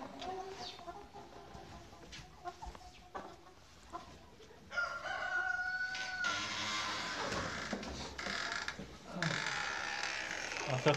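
Hens cluck in a backyard coop while a rooster crows, the calls growing busier and louder midway, a lively, continuous flock chorus heard fairly close.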